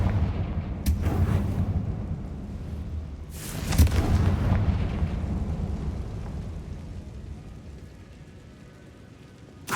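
A Confringo blasting spell from the Hogwarts Legacy video game sets off booming explosions, with a sharp burst near the start and a heavier blast around four seconds that rumbles on and slowly fades.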